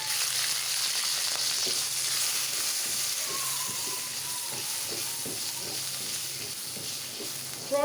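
Prawns sizzle steadily in a hot pan while pad thai is cooked, a dense continuous hiss with occasional soft stirring taps and no voices.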